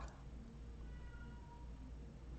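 A pet cat meowing indoors, a faint drawn-out cry heard very quietly against low background hum, with no talk.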